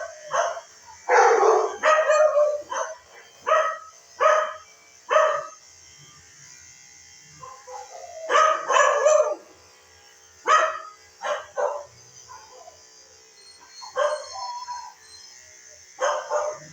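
Two dogs bark in repeated sharp bursts, one setting off the other, loud and close with brief pauses between volleys and no talking, during grooming of a Lagotto Romagnolo.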